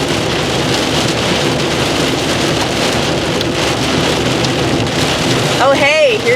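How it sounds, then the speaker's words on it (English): Steady rain falls loud and close throughout, a dense, even hiss that never lets up, with a brief voice cutting in near the end. "Oh hey, here's that rain."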